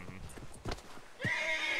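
A horse whinnies and clip-clops nearby, with a sharp neigh cutting in midway and a louder, sustained whinny closing the short clip.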